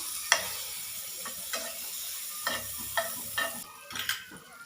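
Garlic chili chutney sizzles in butter on a flat iron tawa for Kolhapuri street-style pav bhaji, a steady close hiss broken by several sharp spatula taps and scrapes at irregular intervals.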